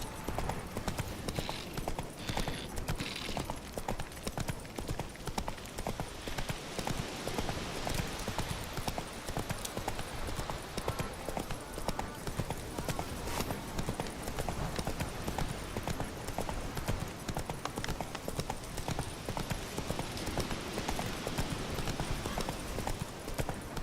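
Steady clip-clop of Roach the horse's hooves in The Witcher 3, a continuous even trot running throughout over a quiet ambient background.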